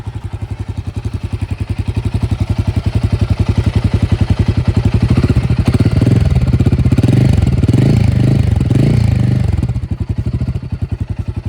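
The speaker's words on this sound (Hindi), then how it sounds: "तो चलिए एक्चुअल इंजन साउंड में आपको सुनाता हूँ।" A Royal Enfield Himalayan 450 motorcycle engine runs close and loud with a fast, even thumping pulse that swells in a brief rev, then settles back to idle.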